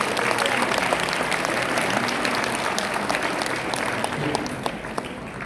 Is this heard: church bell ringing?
no